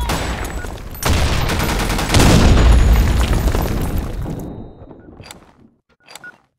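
A grenade blast in the Blackshot shooter game hits hard as a loud, sustained roar that slowly decays, followed by a couple of short, fainter pops near the end.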